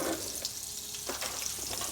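Foie gras frying in its own rendered fat in a pan, a constant bright crackling sizzle with bursts of spattering, close and fairly loud, with no voices over it.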